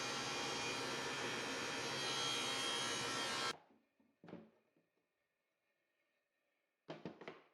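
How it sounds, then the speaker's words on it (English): Power saw cutting wood pieces at opposing 45-degree angles for a wall cabinet: a loud blade whine for several seconds that stops abruptly, followed by a few soft knocks and then a brief second burst. "so I cut 2 pieces with opposing 45-degree angles"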